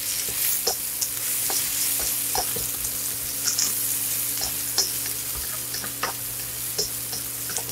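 Peppers stir-fry in a hot wok with a steady, dense sizzle. Scattered scrapes and ticks of stirring run through it, close and without talk.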